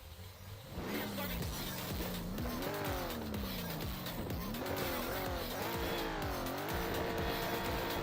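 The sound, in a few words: drifting cars from a racing video game, Supra and BMW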